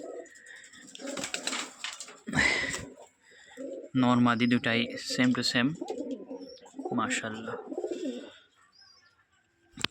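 Pigeons coo in soft, repeated low calls close by, mixed in with someone talking over them.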